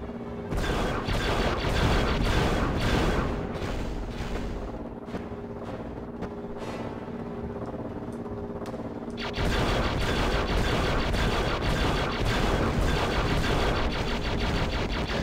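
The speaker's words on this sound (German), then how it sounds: "weil sonst überhitzt sich die Kanone" Rapid bursts of booming cannon shots in a Star Wars Episode III video game repeat in a fast rhythm, pause briefly with scattered single blasts, then resume as a loud continuous barrage.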